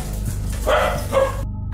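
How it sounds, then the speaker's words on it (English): A dog barks a couple of times, muffled and somewhat distant over a loud, noisy background, with no talking. "No, that was a dog. That was a dog."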